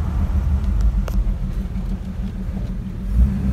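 A car fitted with new drilled and slotted brake rotors drives on the road, giving a loud, steady close engine and road rumble that swells slightly toward the end, with no talk.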